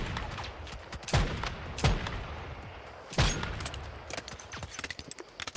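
Gunshots in Once Human, a few sharp, loud single cracks spaced apart, then a quicker string of lighter shots toward the end, all fairly close with no talking.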